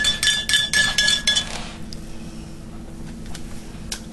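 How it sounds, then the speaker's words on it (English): A spoon clinks rapidly against a glass while stirring an eggnog latte, bright repeated rings for a second and a half, then quieter scraping and a few faint taps. "I'm going to give it a good stir."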